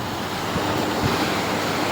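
Ocean surf at a rocky shore on a cold morning, a loud continuous wash of breaking waves mixed with gusting wind on the microphone, no voices.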